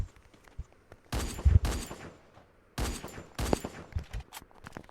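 Gunfire from the video game Counter-Strike comes in two dense clusters of rapid, loud, overlapping shots separated by a short lull, with faint game ambience between the bursts.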